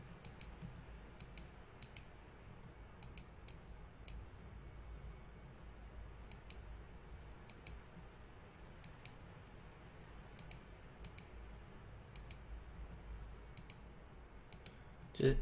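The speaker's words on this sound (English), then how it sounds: "You just click on them and press delete" Computer mouse clicks and keyboard delete-key presses at a desk, a scattered series of light, sharp clicks in irregular bursts over a steady low background hum, close and fairly faint.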